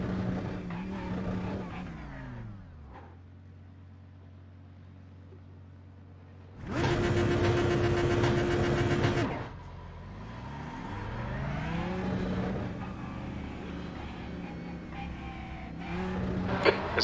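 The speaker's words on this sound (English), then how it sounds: "There's a car approaching." Race car engines in a GT sprint racing game at Okayama circuit, rising and falling with revs and gear changes, a loud broadband roar midway as a car draws close, then steady engine drone continuing to the end.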